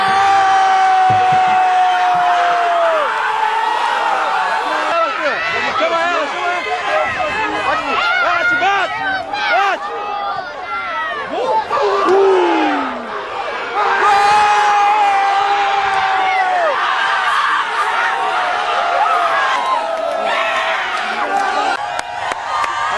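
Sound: Santos fans cheering at women's football match

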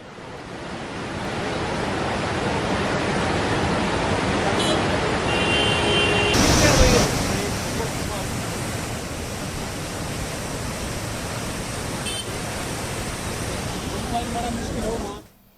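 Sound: Tungabhadra river in flood, water flowing

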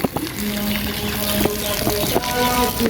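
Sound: water pouring from tube well

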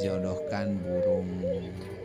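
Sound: pigeons and turtle doves cooing

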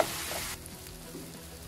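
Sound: tomato frying and being stirred in a pan

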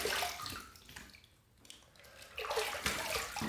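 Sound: water running to rinse face after shaving

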